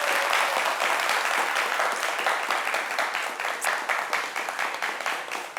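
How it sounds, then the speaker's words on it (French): A studio audience at a Christmas family television show claps loudly, a full continuous applause that gradually thins into more distinct, rhythmic individual claps toward the end. "j'aurai un public formidable qui va s'applaudir bien fort"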